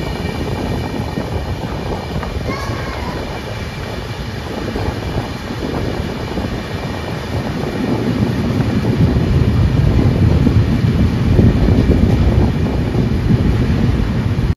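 Steady rumble of an AC double-decker superfast train running between Ahmedabad and Mumbai, heard from inside as a continuous broadband roar that grows slightly louder toward the end, with no talking.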